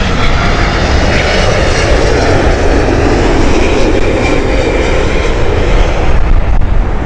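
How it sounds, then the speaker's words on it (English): A 25-year-old Boeing 777-200ER jet, built in 1997, at Heathrow Airport gives a loud, close, continuous engine roar that fills the whole stretch. "777-200ER. This is one of the older aircraft with registration November 793 Uniform Alpha."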